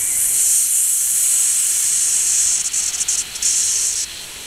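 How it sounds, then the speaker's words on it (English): A garden hose sprays water in a loud, steady hiss that briefly sputters and flutters near the end before settling again, heard close up and without talk. "Here's Milo with the hose."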